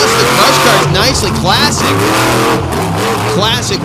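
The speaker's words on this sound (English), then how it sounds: "Corey Snyder loves getting those straight up and down sky wheelies, walking it across the crush cars nicely." A monster truck engine roars and revs hard as it walks a tall wheelie across crushed cars on a beach arena course, loud and continuous, with an announcer talking over it.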